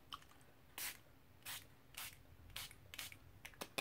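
A spray bottle mists water over paper for an art journal page, about seven short hissing bursts close by, separated by brief pauses.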